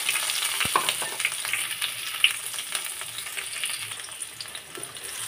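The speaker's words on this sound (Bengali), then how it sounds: "তো তেলটা আমার সুন্দর করে গরম হয়ে গেছে। এখানে আমি কাঁচামরিচ আর পেঁয়াজটা দিয়ে দিব।" Green chilies and onion sizzle and crackle in hot oil in a pan, a steady bright frying hiss with scattered pops, close and fairly loud, with no talking.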